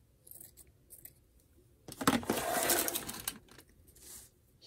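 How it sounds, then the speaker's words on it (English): Scissors snip through a piece of lace in a quiet craft session, a burst of crisp cutting and rustling fabric in the middle between softer handling noises. "I think I want to cut a piece of this lace and use it"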